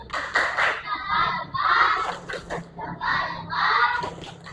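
A primary school class claps for a group after a food chain role-play, several short bursts of hand clapping separated by brief gaps, with children's voices mixed in.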